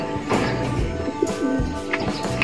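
Several pigeons coo softly and repeatedly at close range inside a pigeon loft, their low, throaty calls overlapping. Light rustling and chirps can be heard behind them.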